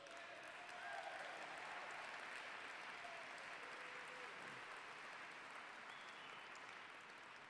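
An audience at a charity scholarship gala applauds in steady, dense clapping that holds at an even level throughout, with faint talk and cheers underneath.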